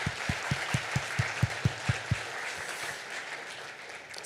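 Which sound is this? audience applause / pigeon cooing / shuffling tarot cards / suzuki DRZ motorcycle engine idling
audience applause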